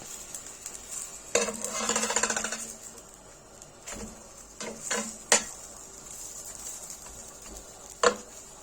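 Sandwiches filled with shawarma, kunafa and butter get flipped on a buttered grill, giving clattering scrapes and knocks in short bursts over a soft background sizzle, fairly close, with no talking.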